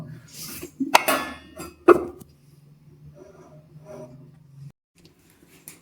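A metal plate set over a pan of pepper meat fry as a lid gives a couple of sharp, close metallic clanks and clinks, followed by quieter rustling and a low steady hum, with no talking.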